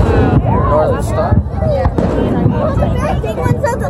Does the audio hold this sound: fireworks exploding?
yes